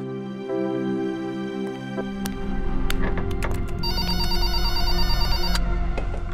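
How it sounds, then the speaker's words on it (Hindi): An old-style telephone bell rings loudly and repeatedly over a low musical drama score, its bright metallic trill continuing for several seconds without any speech. "अर्जुन सर को बोलिए ना गौरी मैम का फोन है"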